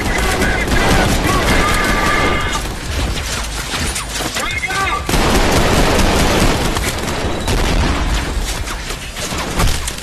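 Dense, continuous automatic gunfire mixed with booming explosions in Trepang2 played in VR, loud and chaotic throughout with brief dips in intensity and a voice talking underneath.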